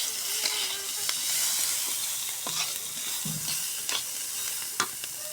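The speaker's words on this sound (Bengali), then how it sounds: "পেঁয়াজ এগুলা সুন্দর করে বাদামি কালার করে ভাজে নিব আমি।" Chopped onion, whole garlic cloves, bay leaves and sliced green chillies fry in oil with a loud, steady hiss and sizzle, broken by occasional clicks of a spatula stirring the pan.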